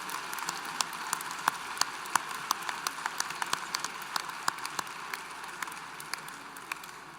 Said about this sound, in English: Let's have a round of applause for all those graduate students hooded in the College of Liberal Arts and Sciences.